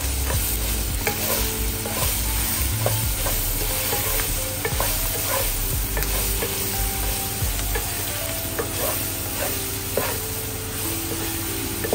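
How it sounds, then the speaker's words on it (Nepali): Onion frying with chicken giblets in a pan: a continuous close, loud sizzle with frequent stirring and scraping, no talk, over a musical backing. "अब बल्ल म यसलाई प्याज हाल्दिन्छु"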